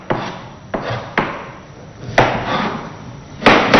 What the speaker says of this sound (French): vous pouvez découper même les oignons sans même toutefois regarder